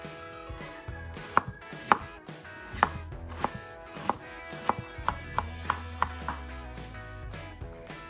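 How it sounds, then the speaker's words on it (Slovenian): Ginger being chopped with a knife on a board, a steady run of about a dozen crisp, close knocks at a fairly even rhythm. "Nekje polovico česna dodamo v meso in si pripravimo še ingver."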